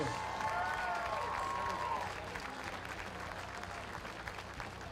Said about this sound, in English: How about a nice round of applause for Andre Rebels?